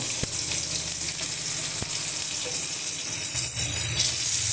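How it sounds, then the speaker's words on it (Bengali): Loud, continuous frying sizzle of onions in oil, with a few sharp clicks and light rattles over the steady hiss. "আমি দিয়ে দিচ্ছি দেখুন 4-6টা পেঁয়াজ, খুব সামান্য।"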